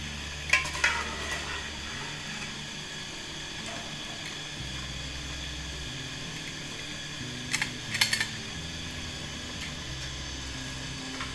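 A spoon gently moves through jaggery rice khichdi in a pot, making faint soft stirring sounds, with a couple of brief clattery clicks early and again near the end over a quiet low hum.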